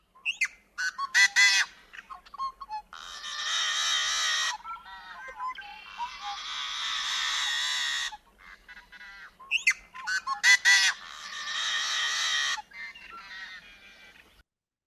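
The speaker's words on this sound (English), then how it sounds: "the yellow-headed blackbird with its very dramatic," A yellow-headed blackbird's loud, harsh song repeats in bursts, with buzzy, screechy stretches between sharp squawks, close and clear with no talking.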